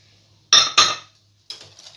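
Two quick clinks of a utensil against a bowl while oil and orange juice are mixed into a batter for Spanish-style rosquillas, followed by a lighter scraping stir after a short pause.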